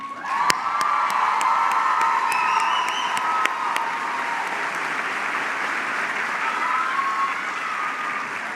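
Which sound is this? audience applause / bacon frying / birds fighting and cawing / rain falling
audience applause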